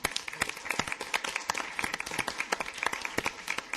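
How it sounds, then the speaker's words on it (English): A room full of people at a regular council meeting breaks into steady applause, with dense overlapping claps carrying loud and close throughout. "I think we need to give them some applause"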